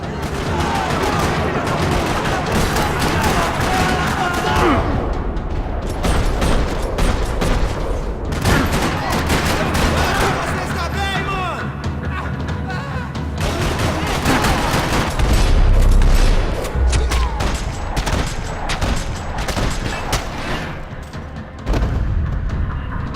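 Continuous bursts of rapid gunfire and booming shots in Max Payne 3, loud and dense, rattling on throughout with occasional heavier blasts and a short break near the end.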